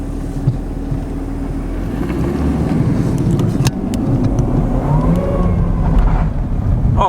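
Chevrolet Camaro ZL1 with a supercharged 6.2L V8 driving on a road, a steady loud engine drone with a faint rising whine building near the end, heard from inside the car.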